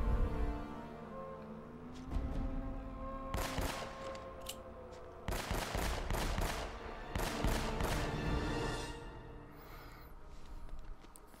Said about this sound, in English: So I'm just kind of like blind shooting, hoping I hit him.